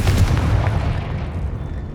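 Confringo fire spell explosion in the Hogwarts Legacy video game, a heavy booming blast with a deep rumble that decays over two seconds.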